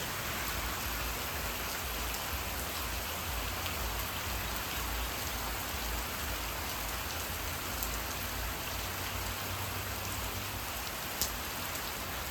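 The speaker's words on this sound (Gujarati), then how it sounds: "ખેતરો ભરાઈ જશે એટલો વરસાદ લાગે છે." Heavy rain pours steadily over fields during a storm, a dense, continuous hiss of drops hitting the ground, loud and unbroken for the whole stretch with no voices.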